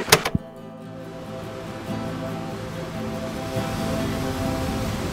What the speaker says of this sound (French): Quoi de mieux que d'être réveillé par le bruit des vagues?